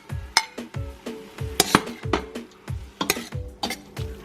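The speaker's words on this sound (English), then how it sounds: "let's add our spinach together with the marinade" Spinach is stirred with marinade for japchae in a bowl, giving a rhythmic series of soft scraping, clinking strokes at about two per second, close and clear, with no talking.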